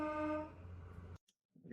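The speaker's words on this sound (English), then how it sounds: "Leave that because of the train horn for a sec." A train horn sounds in the distance, a faint sustained tonal blast that fades away and cuts off after about a second, followed by near silence.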